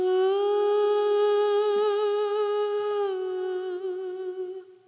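Background vocals soaked in delay and reverb give a haunting, sustained tone, a steady held note with rich harmonics that slowly fades toward the end, with no talking.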